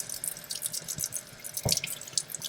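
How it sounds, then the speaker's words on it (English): Cold water runs gently from a tap into a travel water filter system in an off-grid RV, a soft steady stream with small splashes and drips, close and alone. "water just kind of coming out, not super strong."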